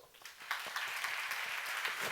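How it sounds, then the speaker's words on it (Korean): A church seminar congregation claps in response to a Korean preacher, a soft dense patter of hands swelling slightly after the first half second and continuing quietly. "박수 좀 쳐"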